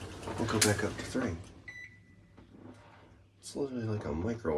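A short electronic beep, like a microwave tone, from a Schindler smart elevator at a hotel in Toledo, Spain, sounds between stretches of people talking nearby.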